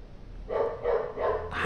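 Street dogs bark outside in a quick run of about four sharp barks, heard at moderate distance with no talk over them.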